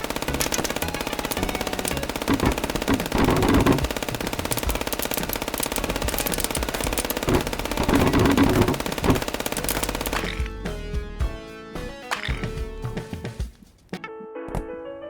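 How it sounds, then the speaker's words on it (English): An infinite-ammo minigun in the video game FPS Chess fires long, dense, rapid bursts of loud gunfire for about ten seconds, then breaks off into scattered shots and game sounds. "It's so OP with the infinite ammo minigun. It's look at me gun this guy down."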